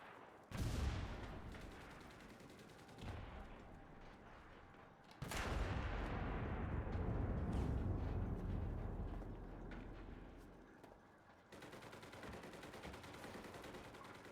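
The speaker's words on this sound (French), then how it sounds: "Ça tire de partout" Gunfire in the WWII shooter Enlisted during a Moscow campaign battle: loud, heavy bursts and booming shots with long echoing tails, a big blast around the middle, over a constant din of distant firing.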